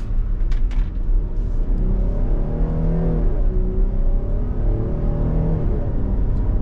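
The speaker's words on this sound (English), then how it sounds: "Nice linear torque delivery out of this V6." A 2025 Dodge Durango GT with a naturally aspirated V6 accelerating, heard from inside the cabin as a steady, rising engine hum with smooth climbing harmonics under low road rumble.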